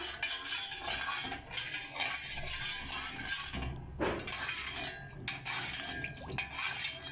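A utensil stirs a pot on the stove, clinking and scraping against the metal in repeated close strokes, with no talking.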